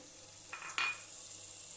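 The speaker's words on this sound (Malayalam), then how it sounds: "സ്വല്പം വെള്ളം ഒഴിച്ചു കൊടുക്കുകയാണ്." A splash of water hits a hot pan of spinach and onion thoran, giving a short hissing burst followed by a quick stirring scrape, then a low, steady sizzle.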